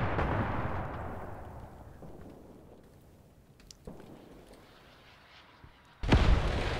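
Mortar shells fire in the Graviteam Tactics Mius Front video game. A heavy rumbling boom fades slowly, a faint thud follows, and then a sudden loud blast near the end, with no voices.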